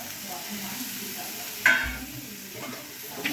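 Spices and asafoetida roasting in a pan, a soft steady sizzle with stirring scrapes and one sharper clank of utensil against the pan midway.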